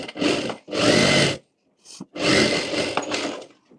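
Sewing machine stitching along a folded strip of fabric for a bridal embroidered blouse, running in three close, steady bursts with short pauses between them and no voices.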